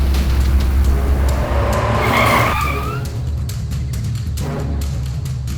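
A car drives along a road with a loud engine rumble and a squealing skid of tires partway through, then the engine settles to a lower, steady hum.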